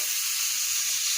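Loud, steady sizzle of a hot pan as spices go in with frying chana dal, a bright continuous hiss with no voices.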